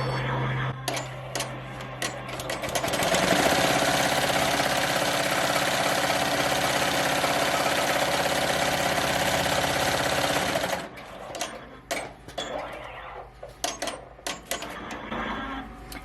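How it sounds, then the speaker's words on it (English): A Melco EMT16X embroidery machine stitches an appliqué on a baby gown, with a loud, steady rapid whirr that runs for about eight seconds, then stops and gives way to scattered clicks and handling sounds. "to start the sewing, you would just press the green button if you're using a Melco"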